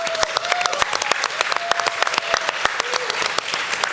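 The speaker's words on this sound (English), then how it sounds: "Let's give them a round of applause, guys." Crowd applause at the Bitcoin 2021 conference, a large live event in the United States: dense, steady clapping from a big audience with sharp individual claps standing out, sustained evenly throughout.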